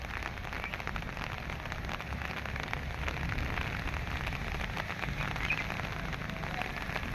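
Heavy rain pours during a hailstorm in Belagavi, Karnataka, a constant, even hiss and patter of falling rain holding steady and moderately loud for the whole stretch, with no talking.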